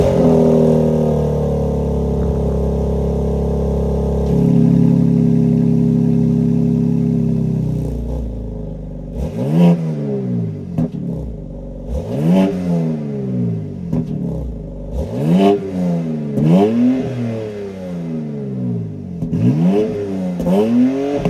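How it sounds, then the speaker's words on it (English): A 2024 BMW X4 M Competition's 3-liter S58 twin-turbo inline-six idles with a deep drone, then is blipped repeatedly, about eight sharp revs rising and falling in quick succession, loud and close. "that was the sound of the monster S58 inline 6-cylinder turbocharged engine sold"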